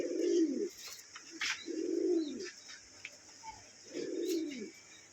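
Pigeons kept for eggs and breeding coo in three deep, rolling bursts at a steady pace, close and clear, with faint chirps and small noises between them.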